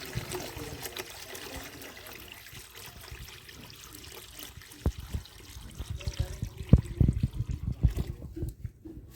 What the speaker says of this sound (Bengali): এখন জলটা দিয়ে দিচ্ছি